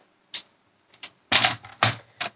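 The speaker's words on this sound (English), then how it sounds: "I actually want to trim that down just slightly because it's a bit wide" Card stock being trimmed with a paper trimmer gives a few short, crisp cutting and sliding sounds, close by and in quick bursts, with near silence between them.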